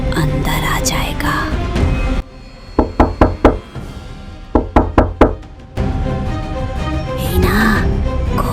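A series of sharp knocks on a door at night, two bursts of about four raps each, loud and close, set between stretches of narrated speech.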